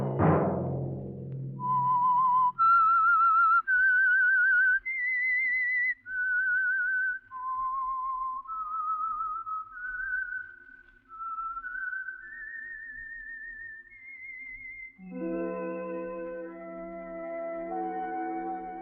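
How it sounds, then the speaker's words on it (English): Whistled signature tune of The Whistler radio program, a lone melodic line of wavering notes rising and falling, followed by a closing orchestral chord. "Let that whistle be your signal for the Signal Oil program, The Whistler, each Monday at 8."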